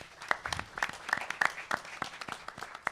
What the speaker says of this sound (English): give a big round of applause to the tech crew